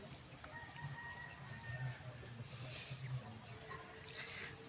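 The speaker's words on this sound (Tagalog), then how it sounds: "Nandun yung mga babae kong manok po." Hens clucking in a backyard flock kept alongside gamecocks, soft and intermittent clucks at moderate distance over steady outdoor background noise, with no talking.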